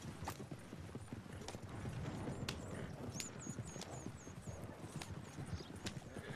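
Horse hooves clip-clop steadily in the Red Dead Redemption 2 video game, a brisk even rhythm of hoofbeats at moderate distance, with faint chirping birds and ambient outdoor sounds around them.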